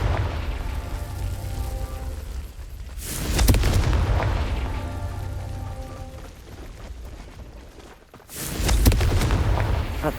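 Confringo explosion spells burst in Hogwarts Legacy, two heavy booming blasts a few seconds apart with a crackling rumble trailing after each, over a continuous musical bed.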